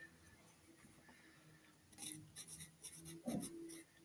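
Quiet scratchy strokes of a charcoal pencil writing on paper, a few short bursts of scraping after a near-silent start, close up.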